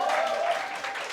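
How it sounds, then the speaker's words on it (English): A crowd in a pub applauding steadily, a dense wash of clapping holding throughout with no pauses, fairly close and loud. "Can we have a round of applause for Steve?"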